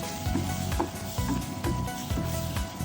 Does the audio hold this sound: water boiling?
yes